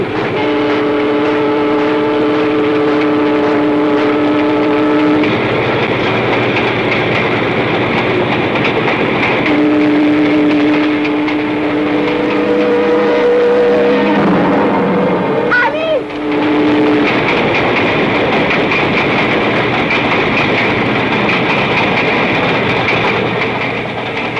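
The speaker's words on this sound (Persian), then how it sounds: "علی تو قطاره" A train rolling along rails at a loud, steady level, with a continuous rumble and wheel noise, a sustained horn tone sounding partway through, and a brief sharper squeal near the middle.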